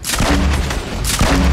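A grenade goes off in the Fortnite video game, two loud booming blasts about a second apart, each with a sharp broadband crack and a low rumbling tail, close and dominant with no talk over them.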